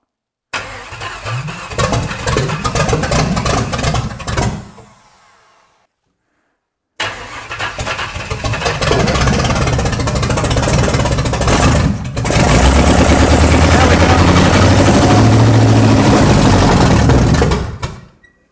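A 1955 Buick Special, abandoned since 1968, cranks and runs roughly, its loud uneven engine roar cutting out briefly before restarting and revving hard, then stopping abruptly.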